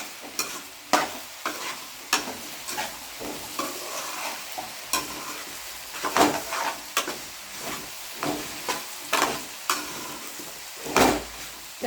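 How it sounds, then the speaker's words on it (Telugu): Sliced okra fries in oil in a pan, a constant soft sizzle broken by regular scraping strokes of a spatula stirring the vegetable, close and moderately loud. "10 నిమిషాలు బెండకాయ బాగా నూనెలోనే ఫ్రై అయిపోతే అప్పుడు కూర బాగుంటుంది"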